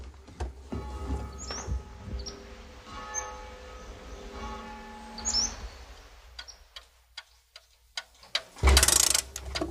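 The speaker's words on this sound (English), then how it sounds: "Every Monday morning, Mr. Shade goes around his shop and winds the clocks." Many clocks tick in a clock shop, a steady soft patter of overlapping ticks with faint chimes, heard at moderate distance with no talk.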